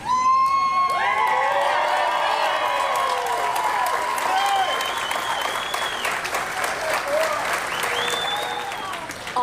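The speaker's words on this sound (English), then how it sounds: "people lining the streets to cheer him on" A street crowd cheers and applauds as a wounded police officer's escort passes through the city, with steady clapping, whoops and shouts, and sirens wailing over the crowd.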